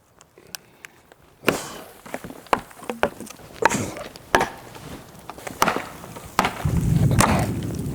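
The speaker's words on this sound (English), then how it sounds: "We're gonna knock these bottom slats off of here." Sharp wooden knocks and cracks from bottom slats being knocked off a garden raised bed land one after another at an uneven pace, loud and close, with rustling and scraping near the end.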